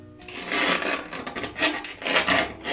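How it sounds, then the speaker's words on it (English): A circular file rasps burrs off drilled holes in a metal network switch case, giving close, uneven scraping strokes in short bursts. "I'm just gonna grab my circular file here."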